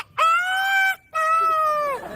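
A man imitates a rooster's crow, giving two long, loud, drawn-out calls with a short break between them, close to the listener and with no other talk.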